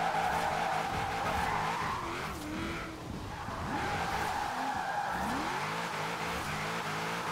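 A drifting car in Forza Horizon 4, with loud, continuous tire squeal over a revving engine as the handbrake is pulled; the pitch slides and wavers during the slide.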